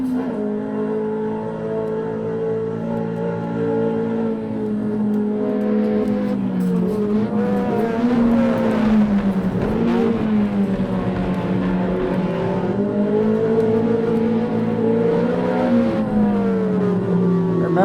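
A Ferrari 360 with a 6-speed gearbox and no traction control races the Nordschleife in a racing sim game, its engine wailing continuously and rising and falling in pitch through gear changes, loud and steady throughout.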